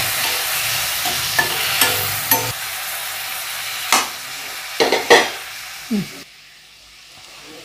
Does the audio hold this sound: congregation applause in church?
no